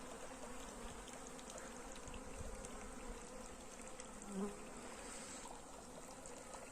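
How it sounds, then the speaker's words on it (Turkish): A dense, constant buzzing of many bees surrounds the scene, steady and moderately close, with faint trickling water underneath. "Arıları görüyorsunuz. Her taraf arı."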